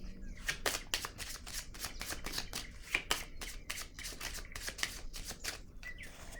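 Tarot cards shuffled and dealt by hand, a quick run of crisp riffling flicks and papery snaps in a steady rhythm, close and fairly quiet with no voice.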